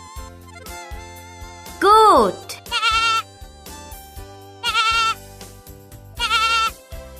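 A goat bleats several times, one long wavering cry followed by shorter quavering bleats, clear and close over soft background music.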